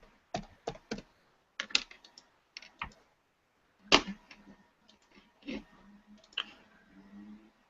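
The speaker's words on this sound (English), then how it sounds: "let me type that in" Typing on a computer keyboard, close and quiet: short clusters of crisp key clicks with gaps between bursts and a slightly heavier keystroke near the middle.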